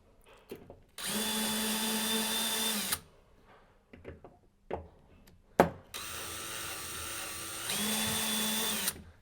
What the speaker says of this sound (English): using your drill, tighten the bolts.